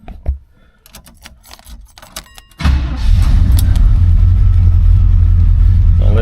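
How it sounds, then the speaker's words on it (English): A 1971 Oldsmobile Cutlass is started from inside the car, with a few clicks and key rattles before the engine catches and settles into a loud, deep, steady idle close by. "Let me go ahead and fire this up."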